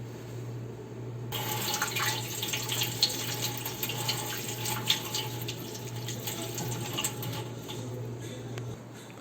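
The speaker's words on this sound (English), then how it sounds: "The thing that I'm gonna do right now will be wash my hands." A tap runs steadily in a kitchen sink while hands are washed before potatoes are prepared for croquettes, a continuous close splashing hiss lasting several seconds with no talking.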